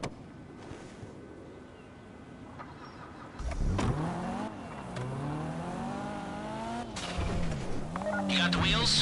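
A car engine in Grand Theft Auto V idles, then revs up and shifts through rising and falling engine tones, loud and close, with a voice speaking over it.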